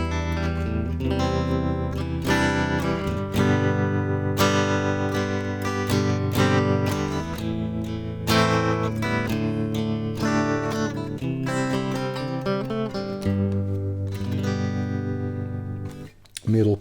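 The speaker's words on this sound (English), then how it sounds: "I've gone to the in between the bridge and the middle," A Stratocaster with the pickup selector between bridge and middle, played through a Fender Mustang LT25 amp, sounds as strummed chords and ringing notes for about sixteen seconds, steady and fairly loud.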